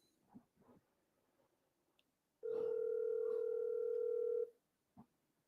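A telephone dial tone sounds while a call is being placed, one steady loud continuous tone lasting about two seconds, with faint clicks and handling noises before and after it and no voices.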